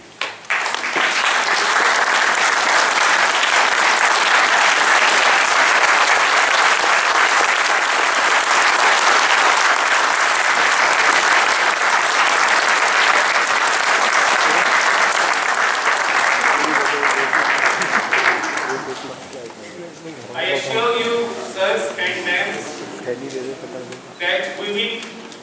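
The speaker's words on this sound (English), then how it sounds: "request the August House to welcome them and applaud their sincere contribution to CI Basic School" A large audience at a 75th Foundation Day event for CI Basic School gives sustained, loud applause to distinguished alumni for about twenty seconds, then a voice speaks over a hall as the clapping fades.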